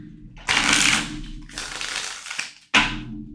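Tarot cards shuffled by hand in three quick bursts, crisp riffling rustles with brief gaps between them, close and fairly loud with no talking.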